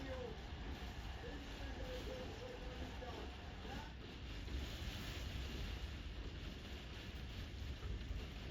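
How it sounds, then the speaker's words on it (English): Strong, gusty wind blows outside a window in Iceland, a steady broadband roar with surf-like swells that fills the whole scene, loud and continuous, with no voices over it. "And this is our view. With crazy wind outside."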